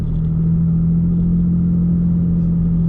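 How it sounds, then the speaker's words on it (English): Toyota Tacoma fitted with a Carven cat-back exhaust, heard from inside the cabin as a loud, steady, deep droning hum with a low rumble underneath, holding constant throughout. "I'll rev it out a bit for you guys, so you guys can see how it sounds in the cabin"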